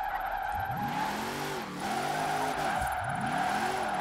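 A drift van in Forza Horizon 4 slides through corners, its tires squealing in a high steady screech over a revving engine that rises and falls in repeated sweeps, loud and close.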